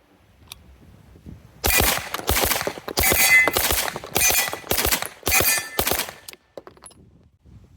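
Rapid strings of 9mm minor pistol shots from an MPA DS9 open competition gun, several sharp bursts packed close together over about five seconds, loud and near with a quiet lead-in and tail.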